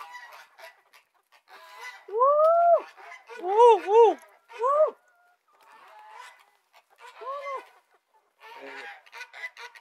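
Chickens cluck in short bursts of harmonic calls, a few louder clusters up close, with a person talking quietly in between.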